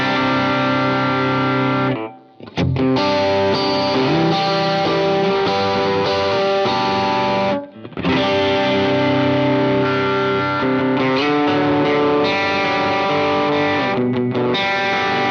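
Loud overdriven electric guitar chords through a Strymon Iridium pedal set to a Marshall-style sound ring out steadily, with two brief pauses between sustained, crunchy strummed passages.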